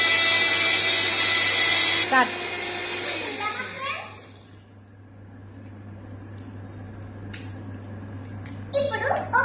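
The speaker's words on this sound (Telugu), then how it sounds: "ఇప్పుడు మనము దీన్ని మిక్సీలోకి వేద్దాము." A kitchen mixer grinder whirs loudly as it blends Oreo cookies with a spoonful of sugar, a steady high whine for about two seconds that then winds down and stops, followed by quiet and a few brief clatters.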